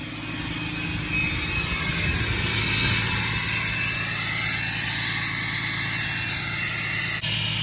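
A Ram diesel pickup, a 4th-gen Mega Cab, roars as its exhaust brake engages, a loud, continuous jet-like drone that holds steady before briefly dipping near the end, with no one speaking.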